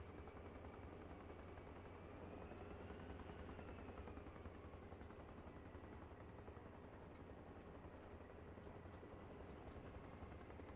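Helicopter in the video game ARMA Reforger, a steady close rotor thrum and engine whine running throughout, loud and continuous with no talk over it.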